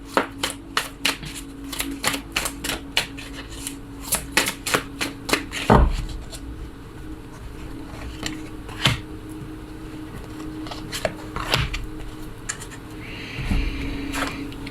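Tarot cards handled on a table, with a run of crisp card snaps and slaps in the first six seconds, then scattered single placements and rustles over a low steady hum.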